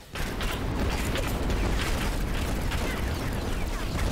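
Explosion in the video game Supraland, a loud sustained blast with rumbling, crackling debris that fills the whole moment without letting up.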